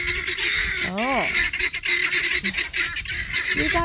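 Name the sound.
guinea fowl calling loudly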